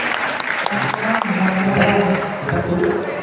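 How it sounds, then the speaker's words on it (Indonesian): Crowd applause for the jury at a Betawi silat competition awards ceremony, a steady burst of clapping with some murmuring voices mixed in, loud and close. "terima kasih sekali lagi tepuk tangan untuk Dewan Juri kita"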